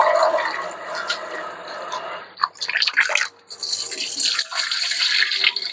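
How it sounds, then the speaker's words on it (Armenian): Round rice is swished and rinsed in water, with splashing and pouring that rise and fall, a short pause midway, then continuous running water. "դե հիմա բրինձը նվանանք, ինքը մաքուր բրինձ է"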